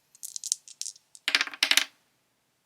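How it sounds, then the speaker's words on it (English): Two dice rolled onto a hard surface, a close clatter of quick tapping hits followed by two louder rattling tumbles, then silence and one faint final tick. "So for dice roulette, I have to roll 2 of these die"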